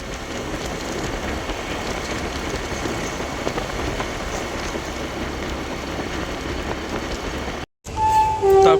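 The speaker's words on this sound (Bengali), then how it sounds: "ট্রেন আসছে।" Train coming through a level crossing: a loud, continuous rumbling roar fills most of the stretch, then it cuts out abruptly and is followed by a short burst of different louder noise.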